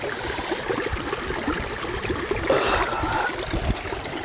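Water trickles and drips steadily from a tiger-stone lifted out after soaking for a month, a close, continuous dribbling splash with a brief gurgle near the middle.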